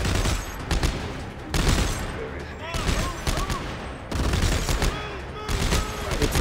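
Gunfire in Dead Space 3, loud rapid bursts of shots in repeated volleys, close and dense, with a person talking over the shooting.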